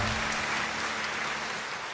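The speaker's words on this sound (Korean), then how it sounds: "우리 박수로 서로 격려하고 축복하겠습니다." A church congregation at a Sunday worship service claps together, a dense, even wash of applause filling the hall at moderate volume for the full two seconds.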